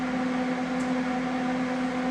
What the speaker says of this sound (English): we'll start slicing them in the meat slicer.